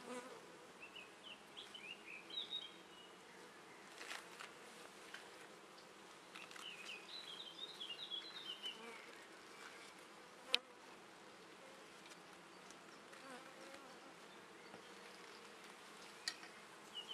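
A honeybee colony buzzes at an open hive while frames are brushed and inspected, a dense steady hum close by with occasional light knocks and scrapes, no talking.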